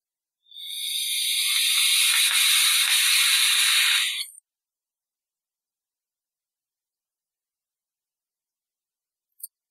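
A test vape on a KangerTech SubTank Mini V2 tank, heard as one steady, loud hiss lasting about four seconds, then silence with a tiny click near the end.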